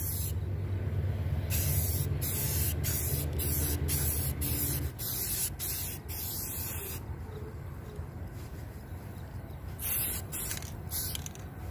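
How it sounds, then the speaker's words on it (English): Aerosol rattle-can spray paint hisses in repeated bursts of varying length, close and fairly loud, separated by short pauses, with a low hum underneath at first. "Yes, I know it's rattle can junk"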